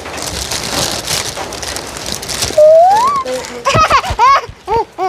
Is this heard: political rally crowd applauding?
no